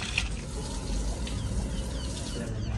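Clean water poured steadily into a vessel, a continuous soft splashing wash with a hint of faint voices in the background.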